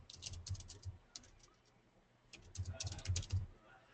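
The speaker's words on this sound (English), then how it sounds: "So I type in Christians, and then I would type in Jesus." Fingers tap a computer keyboard in two quick bursts of light, rapid clicks separated by a short pause, quiet and close.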